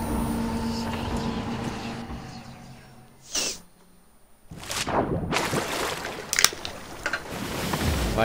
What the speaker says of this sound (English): why do I hear water?